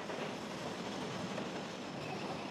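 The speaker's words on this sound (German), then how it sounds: "Der fahrende Kran bringt ständig neue Schwellen ans Ende des Umbauzuges." A 455-tonne track renewal train with a traveling crane moves slowly along the rails, laying concrete sleepers. It gives a faint, continuous rolling rumble with soft rail clatter.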